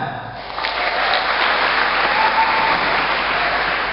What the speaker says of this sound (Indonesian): Yang bilang kaya tepuk tangan.